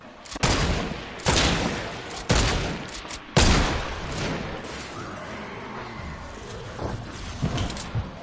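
Semi-automatic gunfire in a video game: four sharp shots at roughly one-second intervals, then a noisier stretch of scattered shots and ambient clatter, loud and close.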